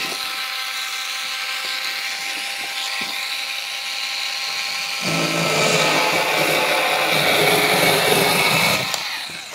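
A powered multi cutter, an electric scissors tool, cuts cardboard for compost, its motor whirring steadily and then growing louder and rougher partway through as it bites into the board.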